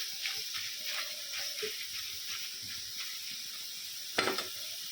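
Steady crackling sizzle of potatoes deep-frying crisp in hot oil, continuous and close, with a brief louder burst of spatter near the end.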